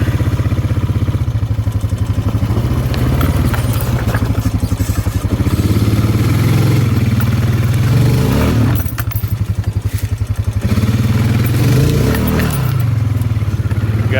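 A farm ATV engine shifted into four-wheel drive grinds steadily through a rough woodland trail in south-east Indiana, a loud continuous rumble with clattering and thumps as it bounces over bumps.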